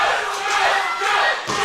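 A wrestling event crowd roars and chants together in a large venue, a loud sustained swell of massed voices that dips briefly near the end before surging back.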